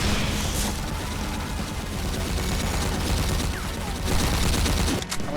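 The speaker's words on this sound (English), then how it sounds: "how does that guy like it when I use the Gatling gun on him?" A Gatling gun fires in the video game Supplice, a continuous loud rattling stream of rapid shots with booming impacts, steady and close throughout.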